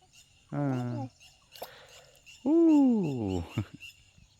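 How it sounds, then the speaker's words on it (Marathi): Two drawn-out, hooting bird calls ring out near a river in rural Ratnagiri in a quiet outdoor setting, separated by a brief pause, with faint ticking between them. "पक्ष्यांचा आवाज येत आहे"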